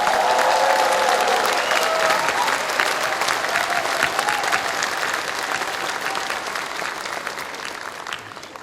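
A large audience at a party founding convention applauds co-leader Ahn Cheol-soo with a loud, steady roar of clapping that slowly tapers off. A voice is briefly audible at the start.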